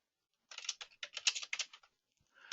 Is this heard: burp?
no